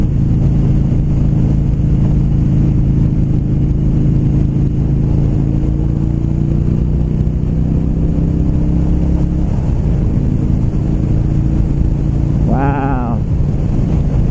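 A 2016 Low Rider motorcycle pulls hard under acceleration, its loud engine drone continuous and close throughout, rising slightly in pitch with wind rush, plus a brief high chirp near the end.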